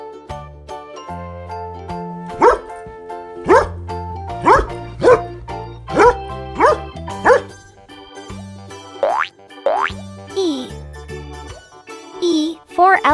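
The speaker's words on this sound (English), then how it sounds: "D for dog." A dog barks in a steady series of about ten short, punchy woofs over a bouncy children's alphabet tune, followed by jingles and cartoon effects.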